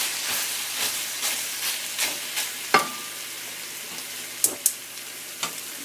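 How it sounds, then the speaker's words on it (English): Chicken sizzles and hisses steadily in a hot pan, with occasional sharp crackles and pops as it fries. "In the meantime, in another pan, my chicken is frying here."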